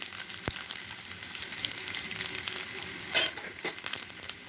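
Spices, nuts and dals fry in a pan with a steady crackling sizzle, punctuated by a sharp knock early on and a louder scraping stir near the end.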